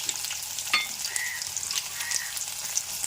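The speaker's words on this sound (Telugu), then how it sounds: "ఇదిగోండి పచ్చనపప్పు" Chana dal frying in hot oil as a tempering for a mango coconut chutney: a continuous close sizzle with scattered pops and crackles, no talking.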